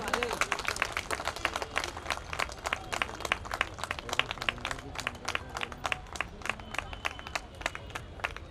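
An audience at a school Ramjanmotsav celebration applauds as a guest is welcomed with a shawl and bouquet, producing dense, steady clapping from many hands throughout.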